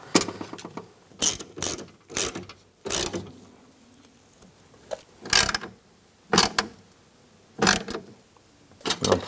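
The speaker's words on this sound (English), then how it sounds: "And we'll tighten those down." Ratcheting clicks from tightening clamps during a door lock actuator replacement on a 1998-2010 Volkswagen Beetle come as about nine short, loud mechanical bursts spread unevenly through the clip, separated by quieter handling noise.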